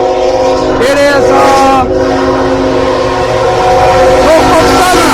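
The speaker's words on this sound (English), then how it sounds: "this one today is a Norfolk Southern with the same type of horn, the same type of train" A Norfolk Southern container train sounds its horn at a crossing, a loud, sustained multi-tone blast held nearly throughout with brief wavering breaks.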